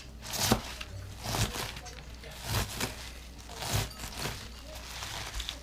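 A ceramic knife chops collard greens and kale in a steady series of rhythmic thuds and leafy crunches, fairly close, with faint background sound.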